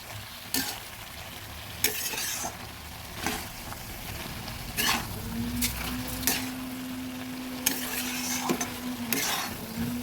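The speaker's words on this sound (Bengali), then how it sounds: "যা সুন্দর করে নেড়ে মিশিয়ে দেব" Sim beans, potato and kechki fish being stirred and mixed in a pan, a low steady sizzle broken by several sharp scraping strokes of the spoon, close and fairly quiet with no talk.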